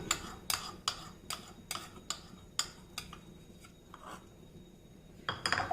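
A spoon stirs milk and cream in a vessel, striking the side in a string of crisp, evenly spaced light clinks at close range, with a quicker cluster at the end.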